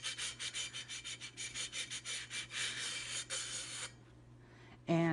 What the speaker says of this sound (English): what you want to do is actually sand this very lightly down